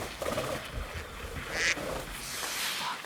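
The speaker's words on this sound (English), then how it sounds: "Well, it sounds like a duck." A duck quacking outdoors near a tiny house, a few faint, brief calls standing out over quiet background noise.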